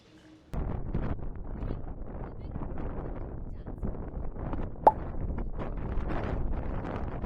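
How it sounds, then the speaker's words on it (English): Strong gusting wind on a mountaintop above burning forests, buffeting the microphone in loud uneven rumbling blasts that start suddenly and continue throughout, with a brief sharp knock partway through. "It is very windy."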